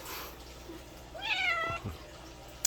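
A house cat waiting to be fed gives a single clear, close meow with a rising-falling tone, followed by soft shuffling in a quiet kitchen.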